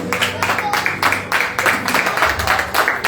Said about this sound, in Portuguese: Pode estar sentado aplaudindo no nome do Senhor Jesus nesta noite.